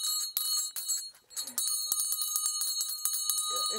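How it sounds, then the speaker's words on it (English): A teacher rings a hand bell at the door of an old one-room schoolhouse, a rapid series of bright metallic clangs that keeps going with a short dip partway through, loud and close. "The teacher came, would always stand at the door there and ring the bell."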